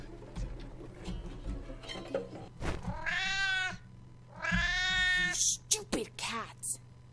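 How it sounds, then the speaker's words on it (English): A cat meows loudly and close, with several drawn-out, wavering cries that rise and fall, separated by short gaps, over a low steady hum and a few soft thumps. "Stupid cat."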